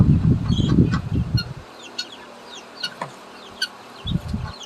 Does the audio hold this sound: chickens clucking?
yes